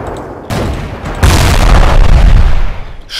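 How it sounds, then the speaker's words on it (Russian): Loud explosions and gunfire in the toy-soldier battle game Ravenfield, with one heavy blast and then a second louder, sustained rumbling boom that fills the clip before cutting off abruptly. "Что это за такие взрывы?"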